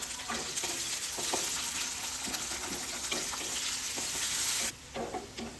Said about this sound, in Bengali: আমি কিছুটা পেঁয়াজকে একদম লাল লাল করে বেরেস্তার মতো করে আমি ভেজে নেব।